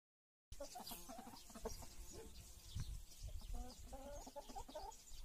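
A hen clucks repeatedly in a farmyard, a run of close, clear clucks with a faint rooster-like call in the middle, soft overall with no talk.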